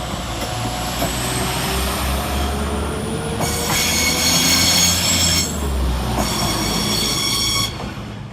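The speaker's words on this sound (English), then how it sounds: "Departing the other way is 195129, working the 1505 Northern service from Chester to Leeds." A Northern diesel passenger train pulls out of Halifax railway station, its engine rumbling steadily while wheels squeal sharply in two loud bursts and rails clack beneath, heard up close with no talk.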